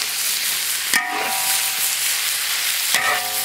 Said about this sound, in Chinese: 这要炒一次后那个入味，才香。